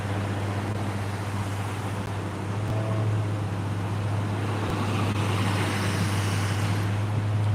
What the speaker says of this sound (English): It's a lot of traffic out here.